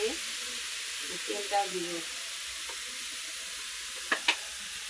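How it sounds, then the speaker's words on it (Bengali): Chopped radish greens with salt and turmeric sizzle in hot oil in a pan, a constant close hiss with occasional scrapes and clinks of a spoon stirring, while someone speaks briefly. "এবার আমি সুন্দর করে নাড়াচাড়া করবো।"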